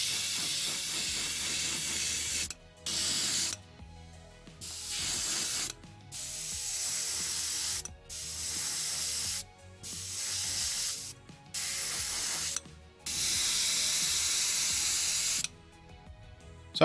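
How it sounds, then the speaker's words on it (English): Vallejo Mecha Primer airbrushed onto an SU-76M scale model tank, a steady close hiss in repeated bursts of one to three seconds separated by short pauses, with no talking. "first I'm going to hit it with a bit of Mecha Primer from Vallejo."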